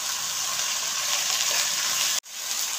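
Avial vegetables sautéed with salt in a pan: taro, beans, carrot, snake gourd, green chili and raw plantain pieces give a loud, dense, hissing sizzle that cuts off abruptly for an instant, then resumes.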